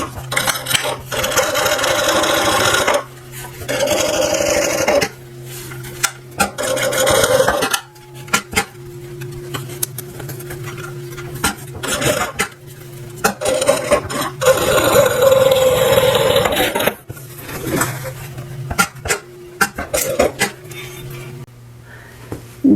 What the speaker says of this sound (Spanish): entonces vamos a empezar a coser